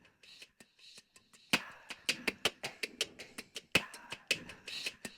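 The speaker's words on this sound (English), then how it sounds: "So that vibe track is there, including some shushes, shaker, and then later tambourine." A percussion groove track of vocal shushes and a shaker, with crisp rhythmic hits that start sparse and quiet, then grow louder and denser with a faint echo trailing behind them.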